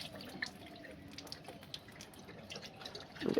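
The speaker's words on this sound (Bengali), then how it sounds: "এইরকম করে জল খুলে দিলে তবে জল খেতে ভালো লাগে।" Water runs from an opened household tap in a steady, low splashing stream, with a louder burst of splashing near the end and no talk.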